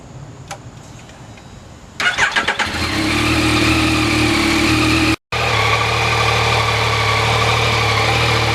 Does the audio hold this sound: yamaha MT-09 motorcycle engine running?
yes